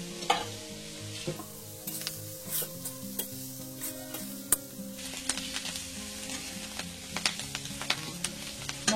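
Eight to ten green chillies fry in a pan with dry fish masala: soft sizzling under frequent stirring scrapes and clinks, with a faint tonal hum in the background.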